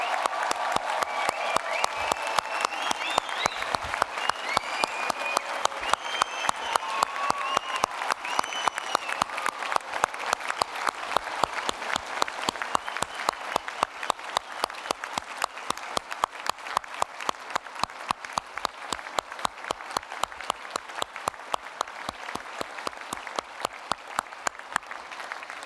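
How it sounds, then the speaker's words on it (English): A graduation ceremony audience gives sustained, dense applause with scattered cheers, steady and loud throughout without letup. "Let's give our graduates a hearty round of applause to say congratulations"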